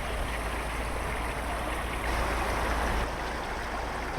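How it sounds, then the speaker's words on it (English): Water running steadily from a new ornamental water feature outdoors in Aberdeen, a continuous broadband rush of flowing water heard close, with no speech. "Nice water feature."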